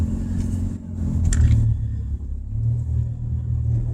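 Steady low car engine rumble from inside a vehicle moving through traffic, continuous and fairly loud, with a brief louder swell near the middle and no talking.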